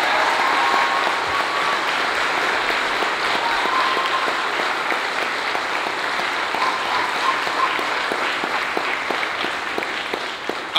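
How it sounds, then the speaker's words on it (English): Steady, sustained audience applause fills a talk and book-tour event in a bookstore, dense and continuous throughout with no speech over it. "Give him a round of applause."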